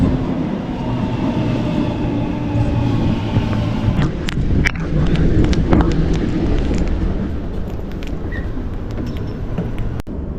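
A train rumbles and clatters close by with a steady roar, brief squeals and clanks as it rolls into a Sydney station platform in the rain.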